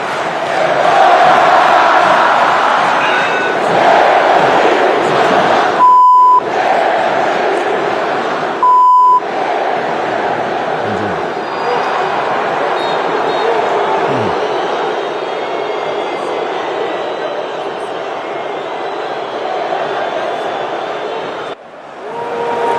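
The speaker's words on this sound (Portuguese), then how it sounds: "Vamos ouvir a vaia?" Flamengo supporters in a football stadium sustain a loud, continuous crowd roar of booing aimed at Gabigol, broken by two short electronic beeps early on and a brief drop near the end.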